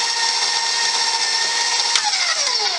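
Stand mixer kneading cinnamon roll dough, a steady loud motor whine with a constant hum that holds throughout and shifts pitch slightly near the end, with no voices.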